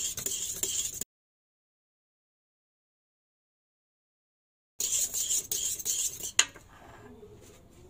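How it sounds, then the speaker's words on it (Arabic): A utensil clinks and scrapes against a bowl while lemon mini cake batter is mixed with oil, in two short bursts of rapid stirring separated by a silent gap, close and without talk. "نحط الزيت، نحطو اون فيلي ونقعد نخلطها."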